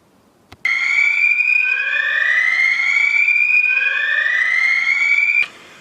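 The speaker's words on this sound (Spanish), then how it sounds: "Entonces sonó la alarma" A loud alarm wails in a radio drama, a rising and falling electronic siren tone sounding steadily for about five seconds after a sharp click, then cutting off.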